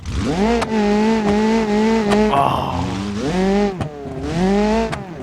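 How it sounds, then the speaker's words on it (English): A car engine in a driving game revs hard with a strong harmonic drone, easing between pulls and climbing again. A brief skid sound cuts in midway, and a voice gives a short exclamation. "Each engine is unique and all of them sound good."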